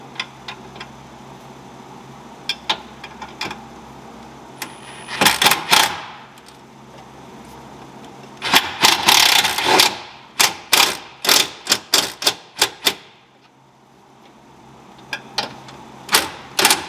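Hand ratchet clicking as it tightens a bolt on a supercharger and intercooler setup, in bursts of quick repeated clicks separated by pauses, close and fairly loud in a quiet garage.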